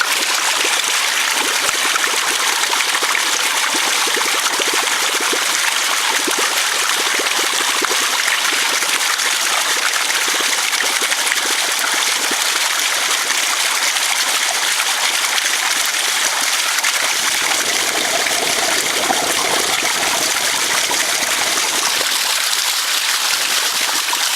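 Water flows steadily through a ram pump running at low flow and slight pressure, a continuous close trickling wash that holds evenly throughout with no voices.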